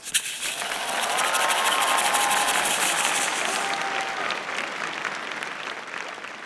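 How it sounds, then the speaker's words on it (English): A graduation crowd applauds family, friends and supporters of the graduates at a bachelor's degree ceremony, sustained dense clapping that swells after a sharp start and then slowly eases off, with faint voices mixed in. "Let's give them a round of applause"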